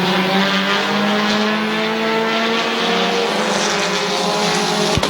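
Race cars at Midvale Speedway roar continuously at close range through a heat race, their engines droning loud and steady with rising and falling pitch, with no talk heard.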